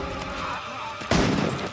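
Gunfire from the horror film Terrifier 3 erupts suddenly after a stretch of low rumbling background, a loud sustained burst that carries to the end.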